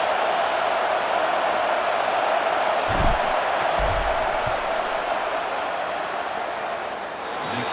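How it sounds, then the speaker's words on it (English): Steady stadium crowd roar from a College Football 27 video game fills the scene during a field goal attempt, a dense broadband wash with a few faint thumps in the middle. "This crowd trying to do its part to get inside the kicker's head."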